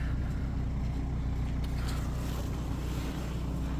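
A crossover SUV's engine, just started, idles steadily with a low, constant rumble, close by and unchanging throughout.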